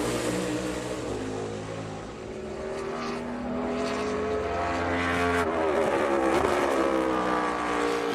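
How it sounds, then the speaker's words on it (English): NASCAR Cup Series race car lapping New Hampshire during practice, a steady loud engine drone with harmonic whine that swells near the end as it passes, heard alone without talk. "Here's the 2nd with Michael McDowell on the track."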